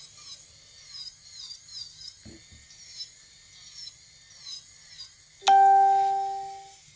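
An electric nail file drill whirs in short, repeated bursts while grinding gel nail extensions off fingernails, with soft rubbing between passes. A clear ringing chime-like tone follows and fades out near the end.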